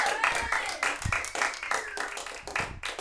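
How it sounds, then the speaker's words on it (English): Audience members clap for a comedian taking the stage at an online open mic, a close, uneven burst of individual hand claps rather than a big, dense ovation, continuing for a few seconds. "A big round of applause for Lauren Gilbert"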